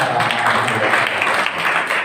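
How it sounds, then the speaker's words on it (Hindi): A crowd at a government senior secondary school ceremony gives loud applause, a dense, even roar of many hands clapping that holds steady throughout. "जोरदार तालियों के"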